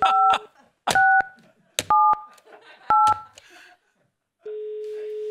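A telephone number keyed in to call a radio station, with a series of loud, clipped DTMF tone bursts in an uneven rhythm, a pause, then a long steady tone, while voices speak between the beeps.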